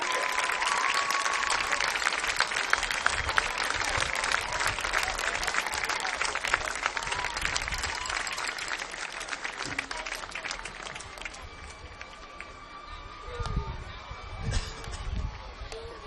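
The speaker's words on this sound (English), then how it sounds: "Congratulations and a round of applause for Sarah Field, the 2015 Homecoming Queen" A high school football crowd applauds the 2015 Homecoming Queen, a long, broad roar of clapping and cheering from a large stadium audience that gradually eases, with a voice booming over it near the end.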